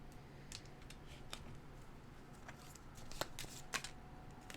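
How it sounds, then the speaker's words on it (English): Tarot cards riffled and shuffled by hand from separate decks, a run of soft papery flutters and crisp snaps at close range with no voices. "I'm going to shuffle from these decks separately"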